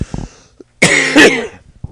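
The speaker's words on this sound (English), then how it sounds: "And coughing and sucking down some of my drink at the same time." One harsh, loud cough up close, with short throat noises just before it and a soft breath after, in an otherwise quiet room.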